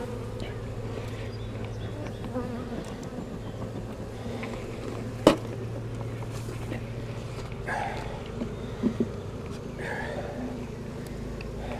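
Honey bees drone steadily through a hive inspection, a continuous close buzz with occasional soft knocks and handling clicks from the hive boxes.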